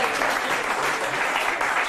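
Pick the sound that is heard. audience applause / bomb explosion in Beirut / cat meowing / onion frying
audience applause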